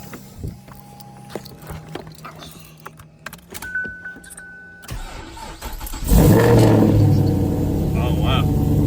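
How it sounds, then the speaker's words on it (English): A 5th-generation Chevrolet Camaro SS engine cranks after a few quiet clicks and keys jingling, then catches and settles into a loud, steady idle up close, with brief speech before it starts. "let's go ahead and start the car."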